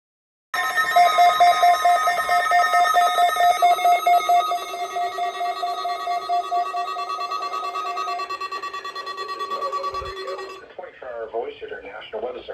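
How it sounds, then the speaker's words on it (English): Emergency Alert System test attention signal from a Florida broadcast, a loud sustained two-tone electronic alarm held steadily for about ten seconds before cutting off, followed by a voice starting to speak. "The preceding signal is a test of the public warning and alarm for transmitters in the Florida listening area"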